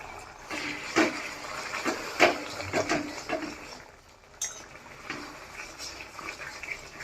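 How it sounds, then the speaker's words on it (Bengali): A lid comes off a pan of simmering Bengali-style ritha fish curry with a few light metallic clinks and knocks, followed by soft bubbling and faint kitchen clatter, close by. "ঢাকাটা এখন খুলে দিচ্ছি"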